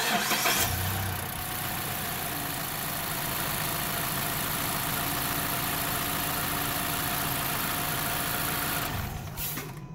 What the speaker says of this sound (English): go ahead and start the vehicle up to make sure that it's operating properly with your brand new spark plugs